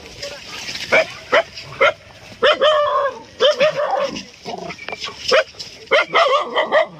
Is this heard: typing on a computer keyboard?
no